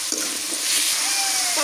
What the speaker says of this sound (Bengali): তেলানির মধ্যে আগে ডাঙ্গাটা পছন্দ করে নিতেছি, ভেজে নিতেছি।